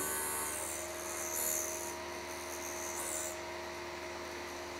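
A Vevor MR13B drill bit sharpener grinds a drill bit, giving a steady, close, high-pitched abrasive rasp with a faint motor hum beneath and slight swells in intensity, with no talking.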